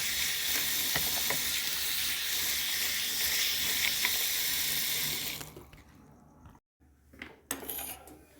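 Cut taro leaves wash in water with a dense, rushing splash for about five seconds, then go quiet apart from a few soft clinks and light handling sounds near the end.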